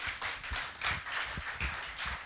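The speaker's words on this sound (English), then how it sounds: "Everybody, please give him a round of applause." Audience at a seminar clapping for a speaker: a short, close burst of applause with firm, rhythmic hand claps that keep on evenly throughout.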